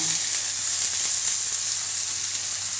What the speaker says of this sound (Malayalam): നമ്മൾ കടുക് പൊട്ടിയതിലേക്ക് ഉള്ളിയും വെളുത്തുള്ളിയും സബോളയും കൂടി ഇട്ട് കൊടുക്കുന്നുണ്ട് കേട്ടോ.